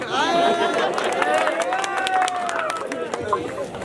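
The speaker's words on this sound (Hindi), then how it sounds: "तो इनके लिए भी जोरदार तालियां हो जाएं" A crowd at a Chitto Mata Yatra gathering applauds loudly and steadily, with a dense wash of clapping and a sustained singing or speaking voice over the top.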